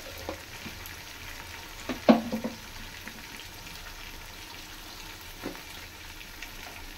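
Ginger garlic paste and chili powder fry in hot oil for a Muslim-style biryani, giving a soft, steady sizzle with a brief stir or clatter near the middle; fairly quiet and without talk.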